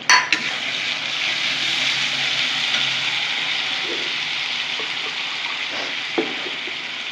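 Spice paste with Kashmiri chilli and fresh tomato frying in a pan hisses in a steady, fairly loud sizzle throughout, broken by a faint clink at the start and another late on.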